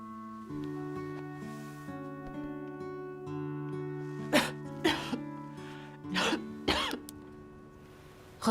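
A sick person coughs in a quiet room, several harsh throaty bursts in quick succession over a steady musical hum, fairly close and loud, with no talk between them.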